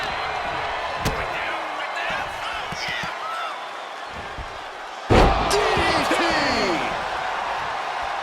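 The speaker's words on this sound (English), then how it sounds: "And Breaker turns the tables. Big clothesline" A wrestler's clothesline lands in WWE 2K25 with a sharp slam; a second, bigger impact comes a few seconds later over a roaring arena crowd, with commentary talk throughout.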